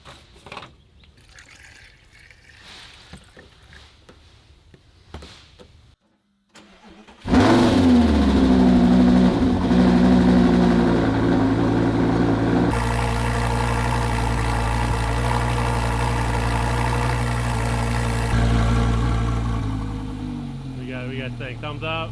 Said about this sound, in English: we'll see if she fires